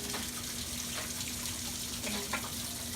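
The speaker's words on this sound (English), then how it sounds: "So I am just turning on because I want to get the hot water." Hot water runs from a tap into a top-loading washing machine, a steady soft splashing gush with a faint hum underneath, continuous and fairly quiet throughout.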